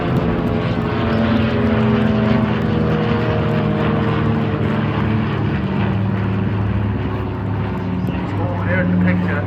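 An aircraft roars overhead at the Blackpool airshow, its loud, steady propeller and engine drone filling the whole stretch while a commentator talks over it.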